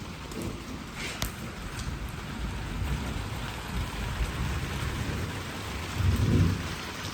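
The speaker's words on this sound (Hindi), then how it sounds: "थंडर स्ट्रॉम टाइप की बारिश शुरू हुई है, गरज चमक भी है साथ" Steady rain pours down on a village in Pakistan while low thunder rumbles, with a sharper crack early and a deeper rumble near the end.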